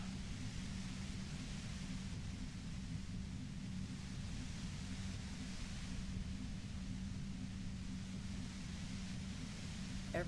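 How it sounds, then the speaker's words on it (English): Steady white noise in the video game Disco Elysium, a constant hiss with a heavy low rumble underneath, unchanging and moderately faint for the whole stretch. "You hear through the white noise. It's especially bad suddenly."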